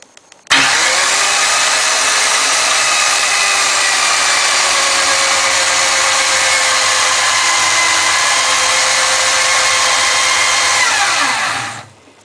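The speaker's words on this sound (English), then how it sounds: "This is done by using this peeling and chamfering tool." A pipe peeling and chamfering tool for socket welding runs loud and close for about eleven seconds, a steady high-pitched motor whine with a faint falling tone, starting abruptly and winding down at the end, no talk.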